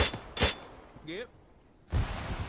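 Gunfire in a military video game: a couple of sharp close shots at the start and a heavier burst near the end, with a brief tonal game sound between, and no talk.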